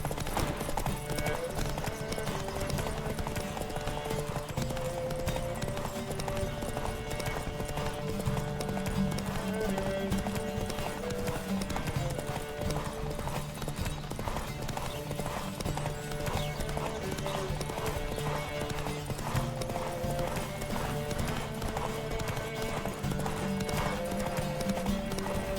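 Horses gallop in a race in The Witcher 3 video game, rapid hoofbeats clattering continuously under layered game music and occasional whinnies, loud and close for the whole stretch.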